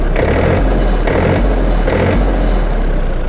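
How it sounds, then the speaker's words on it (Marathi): A Mahindra Oja 27 hp tractor engine runs loud and close, a steady diesel idle with low throb and three rhythmic surges in firing, with no voices. "आणि हे बघा हा ट्रॅक्टरची फायरिंग आहे"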